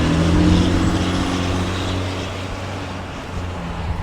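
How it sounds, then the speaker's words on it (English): Street traffic in a snowy neighborhood rumbles past, with engine drone and low road noise from cars and a heavier vehicle, swelling then easing slightly across four seconds with no speech. "we got a lot of traffic noise"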